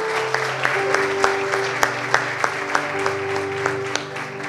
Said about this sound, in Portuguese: Vamos aplaudir a Deus pela palavra dele,